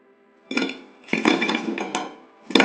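Freshly fried mini samosas are lifted from the pan with a utensil: a few crisp, clattering bursts and clinks, close and fairly loud, separated by short quiet gaps.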